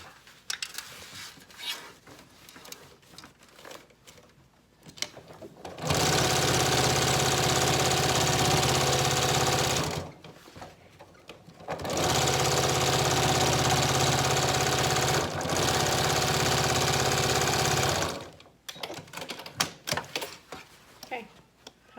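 A sewing machine topstitching a fabric scrap bag, two sustained loud mechanical runs of about four and six seconds separated by a pause, with quieter handling noise around them.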